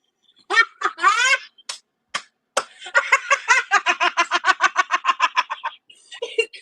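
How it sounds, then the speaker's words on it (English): A bird squawks up close in a quick, insistent series of harsh, cackling calls: a few scattered cries, then a steady rhythmic run of squawks. "bird's making fun of me right now"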